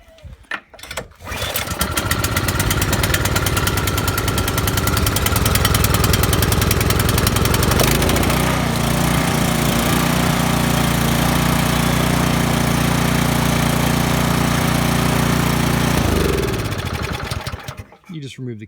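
Cub Cadet snowblower engine started with a single pull, roaring to life loudly and running steadily at close range before shutting off near the end.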